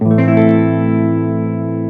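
An electric guitar strums a single minor blues chord that rings out and sustains, slowly decaying with a slightly effected, reverberant tone.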